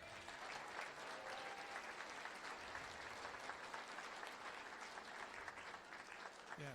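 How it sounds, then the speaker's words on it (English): A town hall audience applauds the organizers, a steady, dense wash of clapping from a large crowd that holds evenly, heard faintly at a distance with no talking. "All of you that organize this deserve a round of applause."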